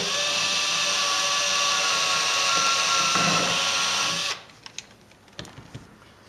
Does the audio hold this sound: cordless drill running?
yes